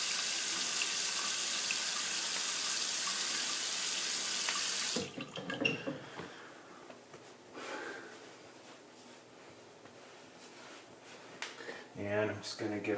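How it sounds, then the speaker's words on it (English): Tap water runs steadily into a sink at first while shaving cream is rinsed off a face after a badger-brush shave. Then the flow stops, leaving splashing hands, sniffs and someone talking nearby. "I'm just going to go ahead and rinse the residual cream off my face here."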